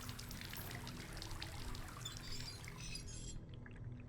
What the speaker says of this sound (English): this is the place with the running water